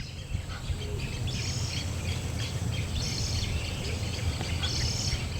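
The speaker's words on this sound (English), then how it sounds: "it has become a natural habitat for a number of bird species, particularly water birds" Birds call and chirp over steady outdoor ambience in a city park with a natural spring, home to many bird species including water birds; the calls are faint to moderate, repeated bursts over a continuous background hum.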